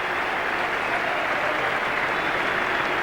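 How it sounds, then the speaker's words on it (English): Cricket crowd applauding a departing batsman, Dean Jones, at a one-day international between Australia and South Africa, a dense, steady wash of clapping from a large stadium audience. "that was the end of Dean Jones, who acknowledges the applause here"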